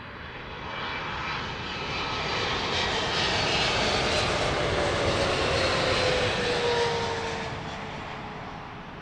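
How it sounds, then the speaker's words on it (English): A Turkish Airlines Boeing 777 jet landing on runway 27 left at Heathrow, its engine roar swelling in, holding loud and broad with a faint descending whine, then easing off as it passes. "Turkish 777 easing its way into runway 27 left here at Heathrow"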